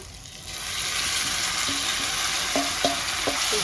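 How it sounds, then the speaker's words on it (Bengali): Masala spices fry in oil for a taro and fish curry, a steady loud sizzle with occasional stirring scrapes and clinks of a utensil against the pan. "তিন চার মিনিট মশলাটা ভাজিয়ে নিলাম দেখেন তেল ছেড়ে ছেড়ে দিতেছে"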